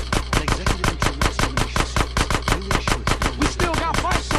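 Gunfire aimed at bikers in GTA San Andreas, a loud, rapid run of sharp shots in a fast, regular rhythm that continues without a break throughout.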